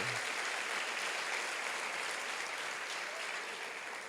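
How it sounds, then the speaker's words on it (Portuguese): Church congregation applauding during a service, a steady dense wash of clapping hands that holds evenly for a few seconds before easing slightly at the end. "vamos aplaudir ao Senhor pela presença dEle"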